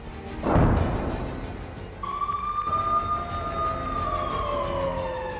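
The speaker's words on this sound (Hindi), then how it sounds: "आधी रात एक बार फिर तेल अवीव में सायरन बज उठे" An air raid siren in Tel Aviv at midnight rises and then holds a long, steady wailing tone, loud and fairly near, after a brief burst of noise at the start; no voices.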